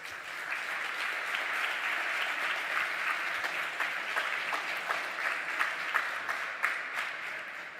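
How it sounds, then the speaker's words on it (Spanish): Sustained applause from a large crowd at an Organization of American States youth event, dense and steady clapping that continues throughout without any talking. "y la recibimos con un fuerte aplauso"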